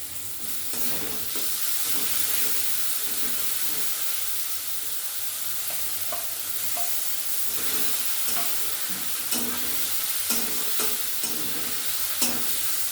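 Chopped tomato hits a pan of frying ginger and garlic, giving a steady sizzle with stirring scrapes and light clicks of the spatula, close and continuous.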